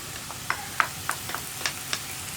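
Crushed ginger, green chili, garlic and onion sautéing in a pan with light, scattered sizzles and the soft clicks of stirring, quiet and close.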